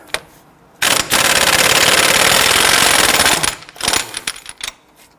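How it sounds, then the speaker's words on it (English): An impact wrench with a 36mm socket hammers loose the front CV axle nut on a 2006-2014 Honda Ridgeline 3.5L V6 in one loud, rapid rattling burst of about three seconds, followed by a few shorter clattering taps. "Using a 36mm socket, go ahead and loosen and remove the nut."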